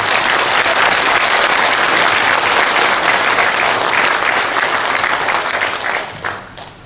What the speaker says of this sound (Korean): 우리 자축의 박수를 한번 칩시다